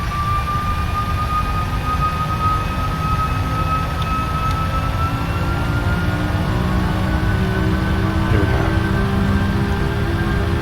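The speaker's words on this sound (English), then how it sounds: "Engines are stable." Jet engines of an airliner in the Prepar3D flight simulator, a loud, steady whine and roar with a slowly shifting tone, continuous and without talk.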